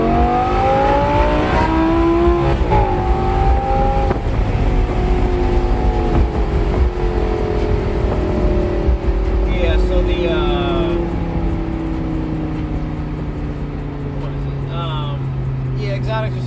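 A 2011 Audi R8 with a 5.2-litre V10 revs up close by, rising and falling engine tones sweeping through several pulls before settling, with someone talking over parts of it.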